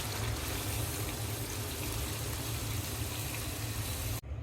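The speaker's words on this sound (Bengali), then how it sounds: "এখন আমি রান্না করার জন্য ঝোল দিয়ে দিব।" Broth poured into a pan of cooking catfish and bean curry, a steady, loud rushing and sizzling wash of liquid that runs without break for about four seconds and then stops abruptly, no talking.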